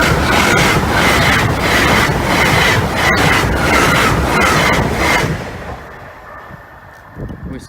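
A train rushes past close by at a level crossing with a loud, steady roar and rhythmic wheel beats, then the noise drops away abruptly as it clears.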